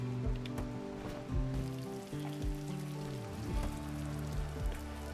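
Steady rain falls across a bog in RimWorld, a dense, even patter of drops on surfaces that holds constant and fairly close throughout, with no other sounds standing out.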